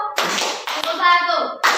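A group claps together in sharp bursts on cue, with a voice calling out a count of one, two, three claps in Indonesian between the claps.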